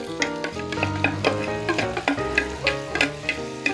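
Strip steak and shrimp fry in a pan with a lively crackling sizzle and repeated stirring scrapes, close and steady, alongside background music and no voices.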